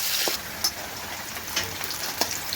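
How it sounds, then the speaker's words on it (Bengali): Cinnamon sticks and bay leaves frying in hot oil in a wok, a steady soft sizzle with a few brief crackling pops, close and continuous with no voices. "কড়াই বসিয়ে দিলাম, তেল দিয়ে দিলাম, দারচিনি তেজপাতা যেগুলো একটু ভেজে নেব।"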